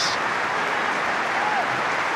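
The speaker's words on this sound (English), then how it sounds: "Round of applause around all four sides of Easter Road for Ian Matthews" A football crowd at Easter Road applauds on all four sides during a Scottish Cup fourth-round match between Hibernian and Hearts: a dense, steady, far-spread wash of clapping that holds evenly throughout.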